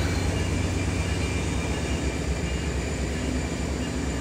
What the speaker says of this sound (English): There you go, hear the horn.